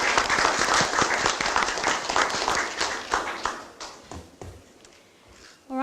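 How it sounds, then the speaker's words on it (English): Round of applause at a Greater Shepparton City Council meeting, a fairly full burst of clapping from those in the room that gradually thins into a few sparse claps before a voice begins. "I think it does deserve a round of applause."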